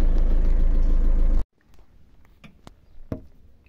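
A diesel van engine runs with a loud, steady rumble for about a second and a half, then cuts off abruptly, leaving a few faint ticks and clicks.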